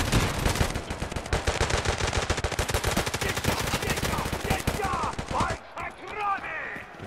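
Rapid automatic gunfire from an Escape from Tarkov: Arena firefight, with a long, loud, steady stream of shots that stops abruptly near the end. Voices follow the shooting.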